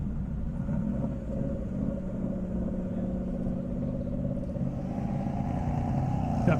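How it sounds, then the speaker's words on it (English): Engines of a 2023 Dodge Hellcat and other cars drag racing on a half-mile airport strip rumble steadily throughout, a loud, continuous low drone that swells slightly near the end. "2023 Hellcat, no less."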